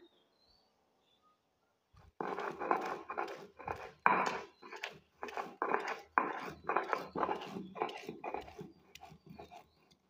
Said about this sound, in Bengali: পাটার মধ্যে বাটটা নিলাম আদামনি পাতাটা